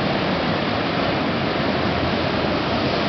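A glacier-fed waterfall pours in a dense, constant rushing roar, loud and close, with no other sounds standing out.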